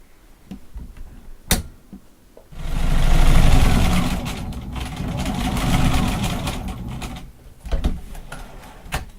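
A sewing machine stitches around the skirt of an 18-inch witch doll, one sustained whirring run of several seconds between quieter handling clicks and rustles nearby.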